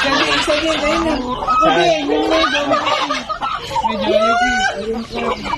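Several native chickens cluck and squawk close by in a busy, continuous stream while being fed, with people talking underneath.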